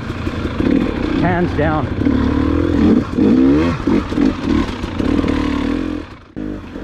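A 2021 Gas Gas EC300 dirt bike engine revs in rising and falling bursts, loud and close, while someone talks over it throughout.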